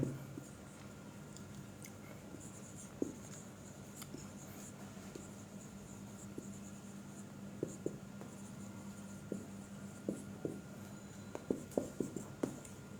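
Handwriting on paper makes a faint, continuous scratching with scattered small taps and clicks of the pen, quiet and close, with no one speaking.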